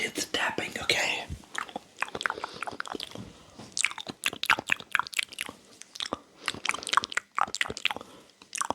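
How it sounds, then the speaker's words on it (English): Close, quiet ASMR mouth sounds with soft clicks and taps, likely including teeth tapping, come in rapid irregular bursts. Faint whispering runs beneath them. "let's enjoy some hand movements along with the beautiful mouth sounds and also the teeth tapping"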